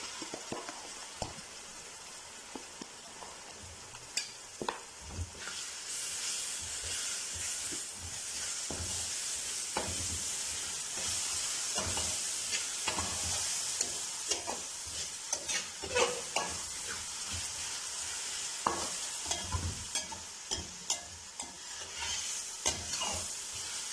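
A soft, steady sizzle of ginger garlic paste frying in a pan for fish curry, with a spoon scraping and stirring in frequent irregular strokes, no voices.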